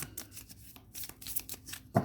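A deck of tarot cards is shuffled on a table: repeated quick papery riffles and slaps in an irregular rhythm, close and fairly quiet, with a firmer tap at the end.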